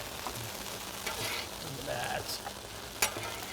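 Taco seasoning and melting cheese sizzle on a flat griddle, a steady soft frying hiss with faint pops and a sharp tap of a utensil near the end.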